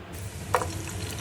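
Whole cardamom, cinnamon, clove and torn bay leaves frying in hot oil for khichuri, giving a soft steady sizzle with one brief stirring clatter, close and quiet.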